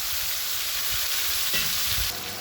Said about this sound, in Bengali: এখানে আমি কালো জিরে ফোড়ন দিয়ে দিয়েছি,